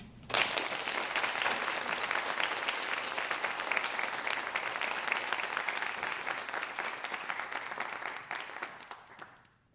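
Audience at a senior creative writing reading breaking into sustained applause, a dense, even roar of many hands clapping for several seconds that starts abruptly and fades out at the end.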